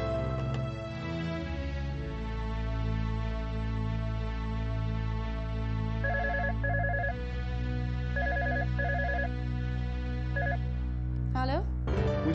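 A telephone in a Hindi TV drama rings with short, repeated electronic ringtone bursts in three clusters, sitting over a steady, droning background bed.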